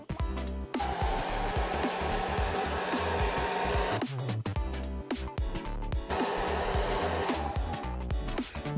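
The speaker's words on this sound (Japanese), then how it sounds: "ドライヤーで乾かして、" A hair dryer blows steadily to dry paint on a painting, running loud and close with a whirring drone that briefly dips and restarts midway.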